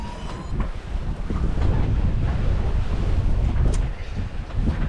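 Wind roars across the microphone aboard a sailboat at sea, with a dull wash of ocean swell around one metre high and water rushing past the hull, steady and loud with no voices.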